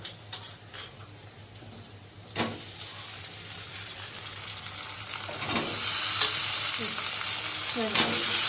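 Black cumin seeds, onion and green chili dropped into hot oil with bay leaf for a Bengali aubergine, potato and fish curry, sizzling and frying steadily close by, with stirring scrapes building toward the end and no talk.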